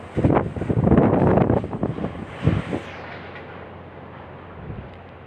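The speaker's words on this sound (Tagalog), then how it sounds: "malakas na po ang hangin at may kasama po itong mga pagulan." Strong typhoon wind with rain buffets the microphone in heavy gusts for a few seconds, then drops to a lower steady rush.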